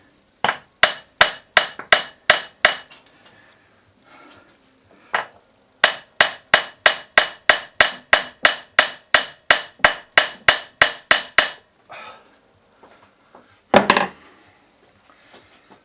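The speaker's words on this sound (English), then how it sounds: "I'll smack it with a hammer." Sharp metallic hammer blows strike the front engine mounting of a Yamaha XS1100 motorcycle during an engine strip, landing in quick, even runs of ringing taps, pausing, then resuming before a final cluster of heavier knocks.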